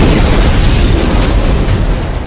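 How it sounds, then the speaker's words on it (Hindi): An Israeli tank blowing up in the Gaza war, a loud, dense explosion roar with rumbling booms filling the whole short stretch. "जो धमाका है उसमें न सिर्फ इजराइल का टैंक फट रहा है"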